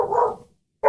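A corgi barks outdoors, two short close barks separated by a brief silence, loud and alone.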